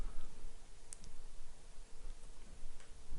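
Light computer mouse clicks, a few soft isolated ticks over a quiet background.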